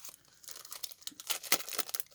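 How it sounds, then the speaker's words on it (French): Paper wrapping being torn and peeled off embellishments from a scrapbooking box, a run of crisp ripping and crinkling bursts growing louder toward the middle, close by with no talk. "Je vais peut-être enlever le papier, ce sera mieux."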